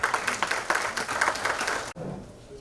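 Audience at a nursing and paramedical institutes award ceremony applauding, a loud dense burst of many hands that cuts off abruptly near the end, leaving a quieter room.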